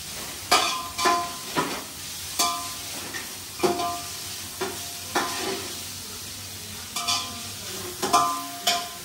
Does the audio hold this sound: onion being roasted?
yes